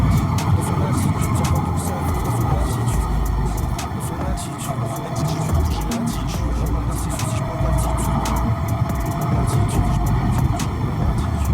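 A Suzuki GSX-8S sport roadster with a quickshifter is ridden on the road, its engine droning steadily under rushing wind noise for the whole stretch, while a rider talks over it.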